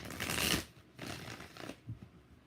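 Tarot cards shuffled by hand in a few rustling, riffling bursts, the loudest first and then two softer passes, close and with no talk over them.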